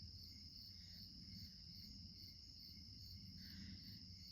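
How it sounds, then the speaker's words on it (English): Faint, steady high-pitched cricket chirping repeats in pulses over a low background hum, with no voices. "I'm trusting that you hear the crickets"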